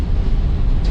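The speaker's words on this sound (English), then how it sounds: "there's a train next to me, so it's pretty loud in here" Inside a car in Manhattan, a train rumbles loudly right alongside, a dense low roar that fills the whole second without a break.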